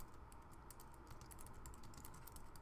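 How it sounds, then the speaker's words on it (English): Steady, quick typing on a computer keyboard while building a Shopify product landing page: a close, continuous patter of key clicks with no talking. "So we can go ahead and type something like this."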